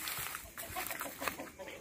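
Chickens cluck and call at a family home in Egypt, a few soft, irregular bird sounds near a fenced area over outdoor background noise, with faint voices nearby.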